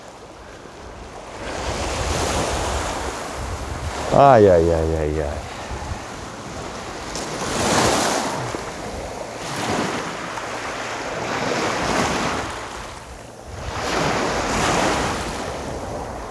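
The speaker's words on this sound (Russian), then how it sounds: "И какой прибой. Ну, я должен вам дать послушать волну" Sea waves surge and wash onto a pebble shore at Toila in slow recurring swells, with wind noise and a brief sung exclamation from a voice partway through.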